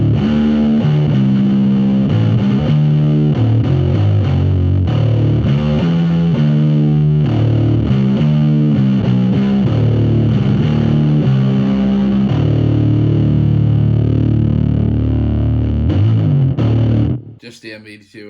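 A heavily distorted bass guitar played through a Bong Ripper pedal stacked with an MBD2 distortion pedal, loud, thick and continuous riffing for most of the stretch before cutting off abruptly into brief noise.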